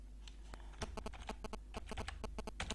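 Typing on a computer keyboard while writing in Microsoft Word: quick, close, irregular clicks and taps in bursts, steady background hum underneath.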